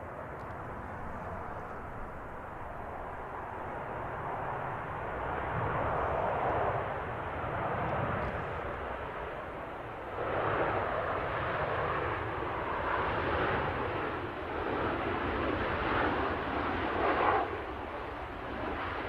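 An Airbus A380 Super Jumbo jet at Manchester Airport gives off a loud, steady, broadband jet roar that swells and ebbs over about nineteen seconds, heard from a moderate distance.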